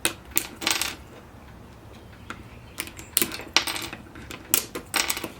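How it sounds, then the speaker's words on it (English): Small plastic parts are popped and ripped off a Magnavox boom box tape player radio, giving a series of sharp, close clicks and snaps in irregular bursts with quiet gaps between. "You just rip them off."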